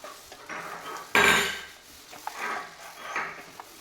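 MTR vangibath masala powder mixed into brinjal in a pan, with a loud metal spoon clatter against the pan followed by softer rhythmic scraping strokes as the spices are stirred through.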